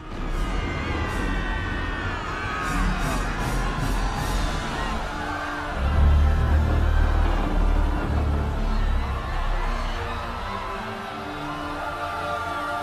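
A crowd runs and screams in panic aboard a sinking ship in a Titanic film scene, a dense rumbling roar of shouts and cries mixed with booming low crashes and whoops that swell midway and keep going.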